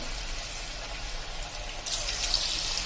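Potato bhajiya fritters sizzle steadily in hot oil on a gas stove, a dense crackling hiss that holds close and even throughout, swelling slightly near the end, with no talk over it.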